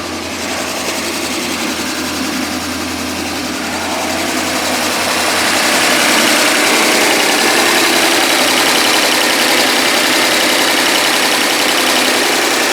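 A 1998 BMW 740iL engine, just fitted with a new fuel pump, runs loudly nearby, its pitch and volume rising partway through as it revs up unexpectedly and stays high.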